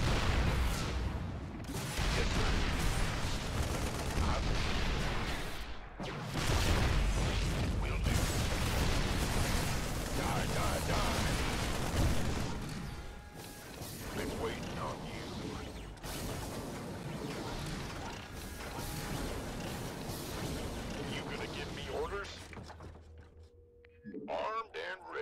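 Heavy rumbling artillery bursts and mechanical clanks from Terran siege tanks bombarding from high ground in a StarCraft II campaign battle against Protoss, a dense, loud barrage running almost continuously under game effects.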